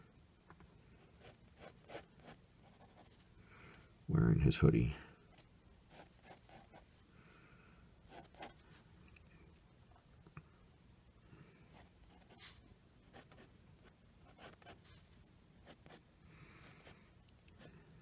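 Pencil drawing on paper during an illustration session: soft, irregular scratchy strokes run faint and close throughout, with a louder burst of rubbing around the fourth second and a few light clicks.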